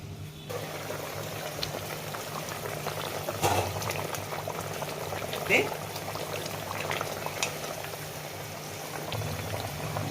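A covered pot of brinjal curry boils steadily, giving a continuous bubbling simmer with a few louder bubbles and rattles.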